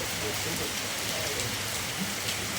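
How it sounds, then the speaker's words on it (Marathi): Faint, steady hiss of rain falling on surfaces during village Dahi Handi preparations, an even wash of drops with no pauses. "आज पाऊस बघा दहीहंडीला पाऊस बघा"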